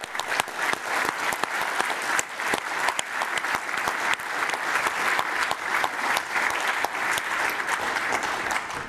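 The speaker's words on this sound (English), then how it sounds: "that's a huge applause for the whole team" An audience at the closing session of a network operators' conference applauds the event team. The clapping is sustained and lively, with individual sharp claps standing out over the dense wash of hands across nearly nine seconds.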